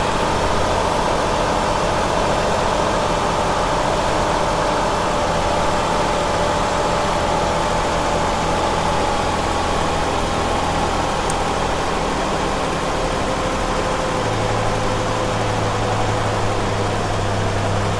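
A Ford Escape engine stuck at high idle, holding a steady, even drone with a faint hum throughout, shifting slightly lower in tone near the end, no voices.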